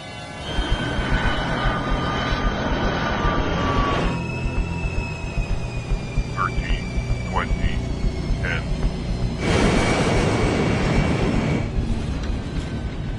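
Steady, loud roar of a China Airlines Boeing 737 during landing on a flight to Okinawa, with a sustained whine and broadband rush that briefly surges and eases, plus a few faint tonal chirps.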